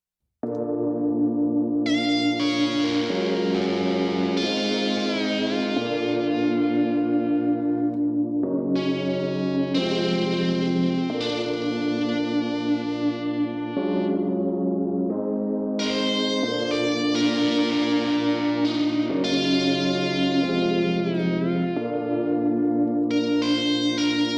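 A bright, effect-laden synth lead plays sustained notes with swooping pitch bends, its phrases echoing and ringing in a continuous, fairly loud line.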